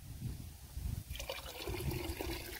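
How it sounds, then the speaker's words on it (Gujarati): Cow urine poured from a container into a dark organic pesticide mixture for vegetables, a steady liquid trickle and splash that starts after a second of low rumbling background and continues to the end. "આમાં છે ગૌમૂત્ર એટલે 1/2 લિટર આપણે આ નાખવાનું છે."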